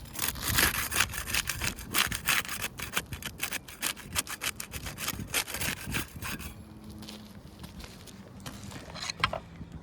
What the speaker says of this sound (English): We use the putty knife to unseal the top shingle